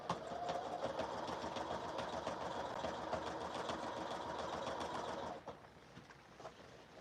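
A sewing machine runs a top stitch along a collar stand seam, giving a steady close-up mechanical whir for about five seconds before stopping abruptly and leaving faint room noise.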